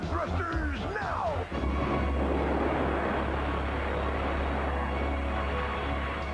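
Spaceship power thrusters fire in a 1980s TV series: a loud, steady roaring rumble holds for several seconds after a brief burst of whooshing sweeps at the start.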